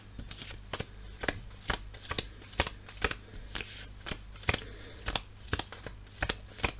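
Cards from a tabletop replay basketball game deck are handled and counted out one at a time, a steady run of crisp, close slaps and flicks roughly every half second, with no voices.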